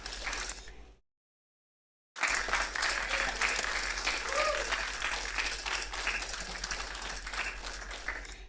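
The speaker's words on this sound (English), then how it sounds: "that wasn't much applause for a really fucking passionate pronouncement there" Applause for a passionate speech: after a short burst and a moment of silence, a crowd's clapping swells and carries on steadily, fairly dense and even, with faint voices underneath.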